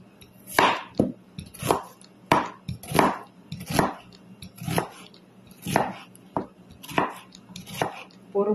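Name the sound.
knife chopping onion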